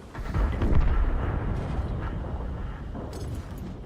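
Artillery rounds land in a tank video game, heard as a dense rumbling barrage of booms and explosions that swells early and then settles into a continuous low roar, loud and without talk.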